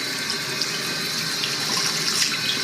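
A waterfall faucet pours a continuous, fairly loud stream of water into a sink, steady and close with no voices over it.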